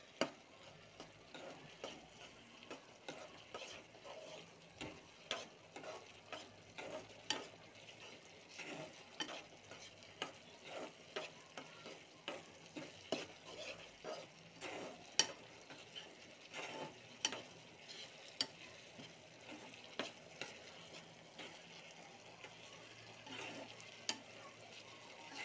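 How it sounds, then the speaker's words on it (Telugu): Semiya kesari with ghee is stirred in a pan, giving faint, regular scraping taps over a soft sizzle that carry on for a long stretch with no voices. "బాగా కలుపుకుందాం."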